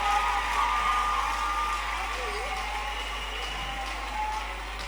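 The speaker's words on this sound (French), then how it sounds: "Acclamons pour Jésus." Steady applause from an audience at a gospel worship night, mixed with crowd noise and a sustained musical tone running underneath, holding evenly throughout.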